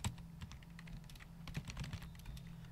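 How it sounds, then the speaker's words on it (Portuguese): Quiet, rapid tapping on a computer keyboard as a name is typed, with steady irregular keystrokes close by and a faint low hum underneath. "Você vai digitar o seu nome,"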